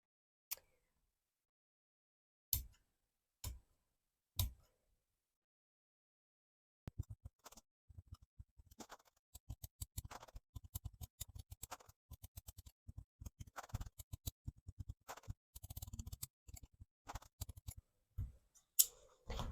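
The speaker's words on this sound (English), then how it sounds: "So I'm just going to now cut this circle out." Scissors cut a circle out of a fabric tablecloth. A few isolated snips come first, then a long run of quick, close, quiet snipping.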